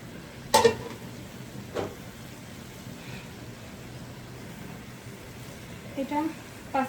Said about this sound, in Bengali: তো এই যে দেখেন আমি মাছগুলা দিয়ে দিয়েছি। এই যে এখন এটা খুব ভালোভাবে কষানো হবে।